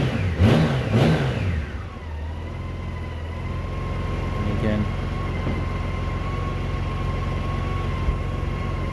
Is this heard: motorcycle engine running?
yes